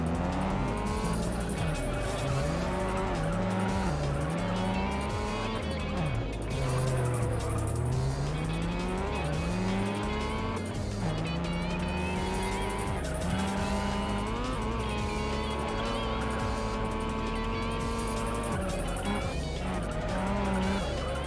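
A car spins out in the racing video game Juiced: continuous loud engine drone with long gliding tire squeals rising and falling across the whole stretch, alone without talk.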